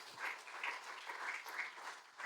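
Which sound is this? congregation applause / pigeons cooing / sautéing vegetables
congregation applause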